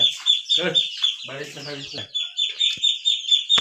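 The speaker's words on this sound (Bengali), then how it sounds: "এগুলো আমার মুরগির খামার" Chickens cluck and chirp close by on a small poultry farm in a busy, repeated chatter, with a few short squawks mixed in.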